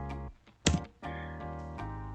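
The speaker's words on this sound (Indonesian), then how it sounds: "Lalu kita offset dengan menekan tombol F pada keyboard." One press of the F key on a computer keyboard while working in SketchUp: a single crisp click standing out against a steady electronic hum.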